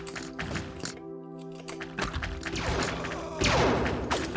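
Gunfire from a soldier agent shooting at the ground in the strategy game OpenApoc, a rapid run of sharp taps and thuds ending in a louder crashing burst, with a steady tonal hum running beneath.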